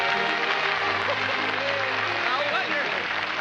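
A studio audience at a live television tribute applauds steadily and evenly, with voices murmuring and speaking over the continuous clapping.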